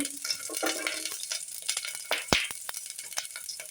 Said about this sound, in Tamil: ஒரு நிமிஷம் நம்ம வதக்கிக்குவோம்